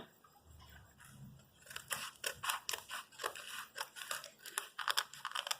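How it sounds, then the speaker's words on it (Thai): Scissors snipping a rooted yi-ra (caraway-type) plant cutting grown in a bottle, giving a series of crisp, close clicks and cuts in an irregular rhythm, getting busier toward the end, with faint rustling and no talking. "จะใช้กรรไกรตัดนะ ตัดนี้ลงมาเลยนะคะ"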